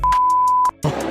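A short, loud, pure electronic censor beep holds one steady tone for about half a second, then cuts off into a brief noisy tail.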